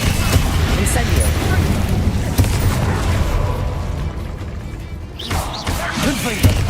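An Incendio fire spell cast in Hogwarts Legacy crackles amid busy combat noise, with repeated booming hits and crashes over a dense, loud rumble while a voice calls out.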